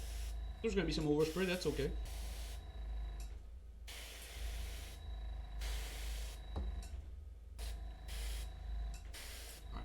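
An airbrush spray-paints the armor of a Sisters of Battle miniature in repeated short hissing bursts separated by pauses, with a brief spoken remark near the start.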